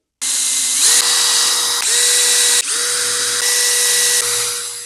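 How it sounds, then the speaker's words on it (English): A power drill whines loudly and continuously close by, its pitch stepping up and down in several bursts as it bores holes into a clamped tablesaw fence. "I'm going to pop a clamp on and drill some holes."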